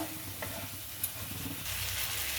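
Spices and tomato stir-fried in oil for a Bengali fish curry, a dense continuous sizzle close up with soft stirring scrapes and one small clink, no voices.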